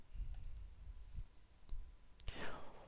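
A mouse clicking on a computer, with a few sharp isolated clicks spread across a few seconds over a quiet room hiss, plus faint breathy noise near the end.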